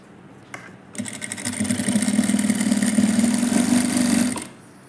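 A sewing machine stitches thread piping, starting up after a brief click and running at a steady, loud, even whir for about three and a half seconds before stopping.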